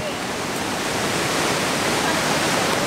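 Loud, steady rush of a fast-flowing river near Taupo, New Zealand, a dense continuous roar filling the whole clip without a break.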